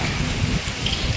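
Heavy rain pours steadily outside a hotel, a dense even hiss with no pauses, close and moderately loud with no voices.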